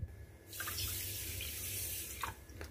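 Water poured from a cup into a pot to make sugar syrup for atta malpua, a steady splashing pour that runs alone from about half a second to the end, fairly close.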